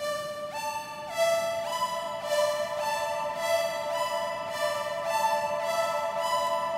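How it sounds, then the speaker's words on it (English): A bright VST synthesizer patch, soloed in Ableton Live, plays a steady sequence of sustained, harmonically rich notes that change pitch every second or so, with no voices. "So the synth we have soloed out just sounds like this."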